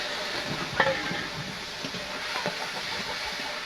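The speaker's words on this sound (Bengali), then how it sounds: "কড়াইতে মাছগুলো দিয়ে দেবো।" Prawns frying in a wok after being rubbed with turmeric and salt, a moderate, even sizzle throughout with a small clink near the start and faint stirring sounds.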